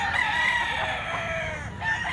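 A rooster, a white medium-sized bird with blue legs, crows once loudly and close, a long drawn-out call rising and falling, with faint background noise and no speech.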